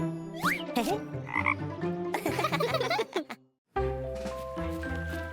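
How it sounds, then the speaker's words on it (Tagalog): A cartoonish frog croak rings out amid bright musical tones and effects, a short playful burst followed by a brief pause and more tones. "Isang palaka!"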